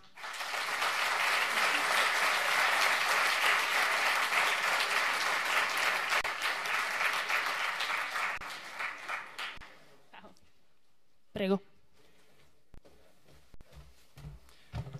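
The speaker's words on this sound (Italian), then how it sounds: "Un applauso a un operaio elettricista, Carlo Ribolla" An audience at a 2014 political rally in Milan applauds warmly for nearly ten seconds as a thick, sustained crowd clap, then it tapers off to a few stray claps and quiet room noise.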